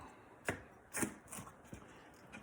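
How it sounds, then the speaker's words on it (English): A knife chops crisp turkey bacon into small bits on a cutting board, giving several sharp, close, crunchy thuds spaced irregularly at a quiet level with no talk. "I cut them into small pieces, like bacon bits."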